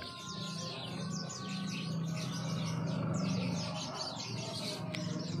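Chattering calls of white-shouldered starlings (jalak kapas), a migratory starling, come as a steady stream of bright chirps and whistles over a low background hum, moderately close and continuous throughout.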